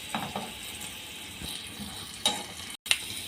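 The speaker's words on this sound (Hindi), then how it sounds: "यहाँ पे अच्छे से फ्राई हो रहे हैं।" Vegetables with green chillies frying in a pan for methi paratha, a faint steady sizzle with a few scrapes of stirring, quiet throughout with a brief silent break near the end.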